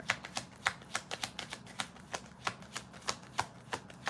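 Tarot cards are handled and flicked in a quick, fairly regular series of soft papery taps and snaps, close but quiet, with no talk.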